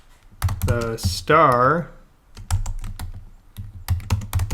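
Quick, crisp computer-keyboard key taps while text in a JavaScript game demo is edited, clustered in short bursts, close and clear, with a voice talking over the first part.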